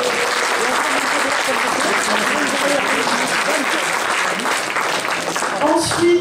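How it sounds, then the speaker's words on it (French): An audience applauds at an award ceremony for a gaming event, sustained and loud across the whole stretch, with voices and crowd noise mixed in toward the end. "s'il vous plaît, on applaudit."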